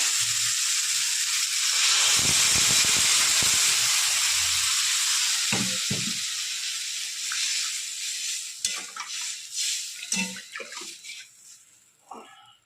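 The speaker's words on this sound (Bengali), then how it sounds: "এবার আমি এর মধ্যে হালকা গরম জল দিয়ে দেবো" Lukewarm water poured into fried spice paste with vegetables for a thin khoira fish curry, a loud steady sizzle and hiss that fades into bubbling and scattered stirring clatter.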